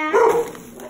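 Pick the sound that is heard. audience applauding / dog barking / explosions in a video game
dog barking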